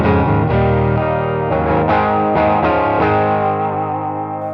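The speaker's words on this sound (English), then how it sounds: "So here's just a Minotaur, as if you're playing a Clon Centaur plugged directly into a speaker cabinet." Overdriven electric guitar run through a Minotaur (Klon Centaur-style) overdrive pedal straight into a 1x12 Deluxe cabinet impulse response, playing sustained distorted chords with several fresh strums and ringing notes, loud and dry with no talking.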